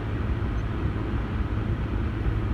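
An old Mathes cooler motor runs steadily, giving a continuous low hum and rumble that stays even and close throughout, with no talking.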